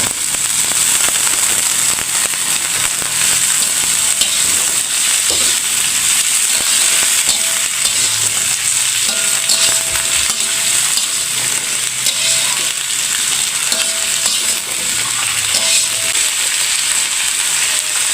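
Onion flower stalks (kembang bawang) frying in a pan, a loud, dense, continuous sizzle and crackle of hot oil heard close up, alone and unbroken for the full length.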